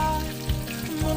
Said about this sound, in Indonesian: Kita aduk-aduk sedikit John biar matangnya rata.